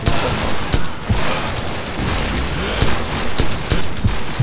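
Rapid gunfire and booming shots from a sniper rifle battle in Call of Duty 4: Modern Warfare, sharp cracks repeating through a dense, loud wash of combat noise with no pauses.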